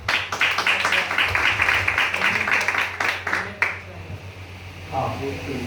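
Audience clapping at a gathering, a dense burst of applause lasting a few seconds before it fades out, with a voice speaking afterward.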